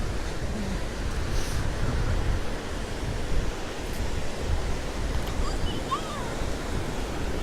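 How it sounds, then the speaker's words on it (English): Ocean surf rolls in from a swell, making a continuous broad roar of breaking waves with wind buffeting the microphone and no voices. "there's another swell rolling through here, and it's going to be some bigger waves again"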